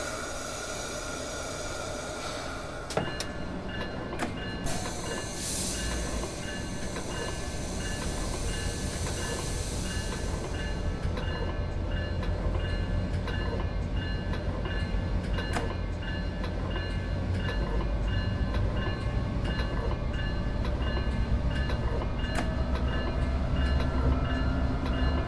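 A Virginia Railway Express commuter train pulls out of Alexandria station in Train Sim World 2022, a steady rumble of engine and rolling wheels building gradually, with horn-like tones and a hiss of air early on.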